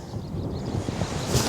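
Wind gusts buffet the microphone on a remote UK golf course, a rough, low rumbling roar that swells and surges close up, growing louder toward the end with no voices.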